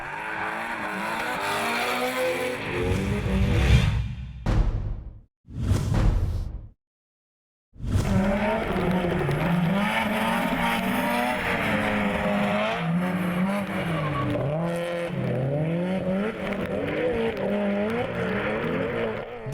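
Subaru and Mustang drift cars battle in a French drift championship round at Lédenon, engines revving hard with wavering pitch and tires squealing, loud and close, broken by a few abrupt cut-outs before the roar resumes for a long stretch.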